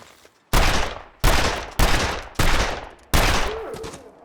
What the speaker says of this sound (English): there's no way I just wasted 5 bullets